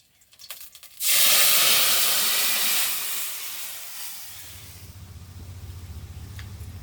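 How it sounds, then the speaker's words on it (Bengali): Fish curry broth is brought to a boil in a pot, beginning with a few brief clinks and then a loud, sudden burst of steady hiss that slowly fades into a low, bubbling simmer. "এবার ঝোলটা ভালো করে ফুটুক।"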